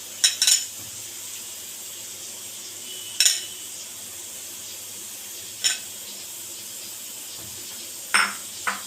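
Chopped onions fry in a hot pan of mustard oil and garam masala for a rustic Bihari-style mutton curry, giving a soft, steady sizzle broken by a few sharp clinks of a utensil against the pot.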